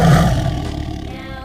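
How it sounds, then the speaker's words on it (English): A tiger lets out a deep, rumbling roar, loud and close, swelling at the start and then fading into a grainy growl over about a second and a half, with no talking. "T for tiger."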